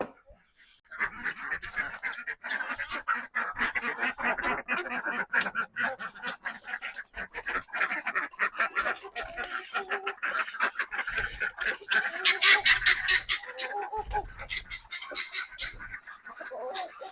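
Ducks and chickens in a coop on a cold morning set up a dense, continuous chorus of loud quacking and clucking close by, with a voice talking now and then.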